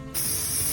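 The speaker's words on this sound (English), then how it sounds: "this isn't just a regular spray paint, this is an actual truck bed liner" Truck bed liner sprayed from a can onto spiral staircase steps, a sudden close hiss that starts after a brief pause and holds steady to the end, with no talking.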